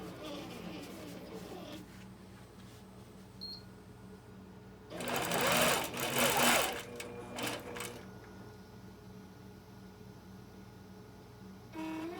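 An APQS longarm quilting machine runs a computer-guided Quilt Path stitching pattern, giving a loud, fast mechanical whir and clatter for a couple of seconds in the middle, with a quieter steady motor hum before and after.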